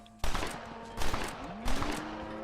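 Gunfire from shooting cows in a video game: three loud separate shots, each with a short echoing tail, standing out over quiet game ambience.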